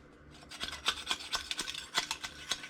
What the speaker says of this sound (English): I'm going to try to grind it up in this mortar and pestle here